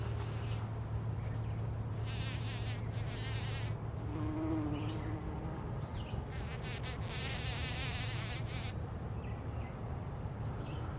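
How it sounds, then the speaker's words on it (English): A bumblebee buzzes around flowers on a small food farm, a low steady drone that drifts nearer and farther over a background of outdoor hum, with no talk. "I think you call that a bumblebee."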